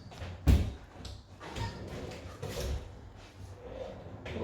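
Drawers in a fitted loft-room alcove wardrobe slide open and shut, giving a sharp close thump early on and then several softer rolling knocks and clicks nearby, with no talking.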